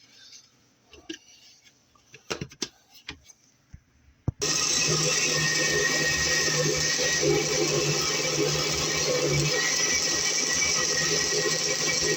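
A blender whirs loud and steady, blending fermented hot sauce with sun-dried tomatoes after a few quiet clicks and knocks, the motor roaring on without a break.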